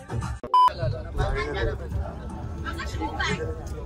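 A single short electronic phone beep sounds early on, cutting through a room of people talking and chattering.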